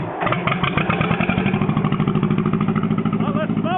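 A John Deere crawler's engine fires up and settles into a loud, rapid, rough chugging beat close by, its pulses steady and unbroken, with no talk over it.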